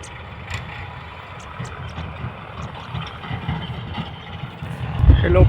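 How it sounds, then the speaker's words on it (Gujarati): A tractor approaches on a farm, its low engine rumble steady beneath the other sounds and swelling louder and closer toward the end. "ટ્રેક્ટર આવે છે."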